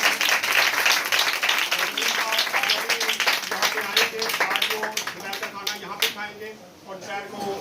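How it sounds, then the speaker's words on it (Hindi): A church congregation claps at a sermon gathering, a mid-level spread of hand claps that overlaps with voices and fades toward the end. "आप तालियां बजा सकते हैं।"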